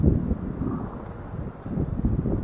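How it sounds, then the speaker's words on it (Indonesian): Strong wind gusts buffet the microphone on a flyover, a steady low roar that swells and dips without a break and drowns out any other sound. "anginnya kencang banget"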